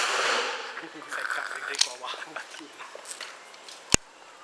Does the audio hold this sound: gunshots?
yes